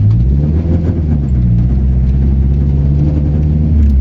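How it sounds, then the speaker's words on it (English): A turbocharged Nissan 240SX engine, freshly rebuilt and still being broken in, hums at low revs while driving, producing a steady, close mid-low rumble with mild fluctuation throughout. "I can rev it to about 3K so you can hear some turbo noises"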